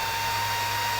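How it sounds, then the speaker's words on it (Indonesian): A small 12-volt cooling fan runs at high speed in a DC wiring setup with a digital voltmeter and ammeter shunt, giving a loud, steady, even whir with no pauses and no talking over it. "Oke, kipas kencang."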